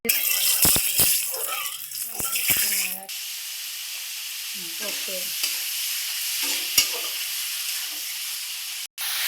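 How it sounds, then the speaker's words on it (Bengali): Oil sizzles in a hot kadai with a bright, hissing crackle, loud at first and then settling into a softer steady fizz, broken by a few sharp clinks and short bursts of voice. "কড়াইটা গরম করে কিছুটা তেল দিয়ে"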